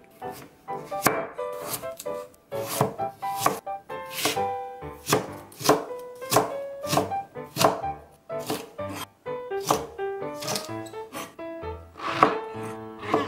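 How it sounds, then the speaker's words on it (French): Washed vegetables, including burdock root, cut with a knife on a board: a brisk close series of crisp chopping knocks in uneven rhythm, alone without talk. "Après avoir lavé les légumes, on va couper"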